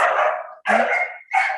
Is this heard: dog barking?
yes